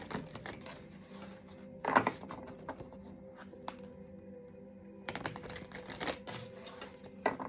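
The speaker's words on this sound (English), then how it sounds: "One more good shuffle" Playing cards are shuffled in a few bursts of riffling and clattering, the loudest around two seconds in and again near five and seven seconds, over a low steady background hum.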